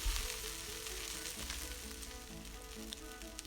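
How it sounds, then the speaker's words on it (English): Finely chopped mint leaves sizzle steadily in a hot pan as they are stirred, a continuous quiet frying hiss with occasional scrapes and no voices. "I am adding the finely chopped mint leaves into the pan, and I'm stirring it for a few minutes"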